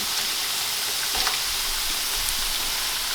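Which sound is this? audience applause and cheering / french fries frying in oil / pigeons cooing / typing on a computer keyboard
french fries frying in oil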